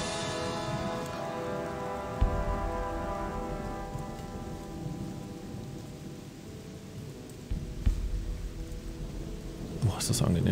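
Steady rain with rolling thunder from the medieval fantasy game Gothic II, a broad hiss of downpour throughout with a few sharper thunder cracks and low rumbles rising out of it, no talking.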